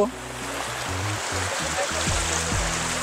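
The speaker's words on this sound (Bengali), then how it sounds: "শিমুল বাগান দেখা শেষ করে এই ঝর্ণাটা দেখে গেলাম" A waterfall in the foothills of Meghalaya gives a steady, broad rushing hiss of falling water that lasts the whole time, with a low hum and faint voices underneath.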